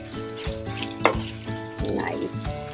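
Turkey sausage frying in a pan for brown rice stuffing, a steady close sizzle broken by a few sharp utensil scrapes and stirring knocks, with a brief burst of louder crackle near the end.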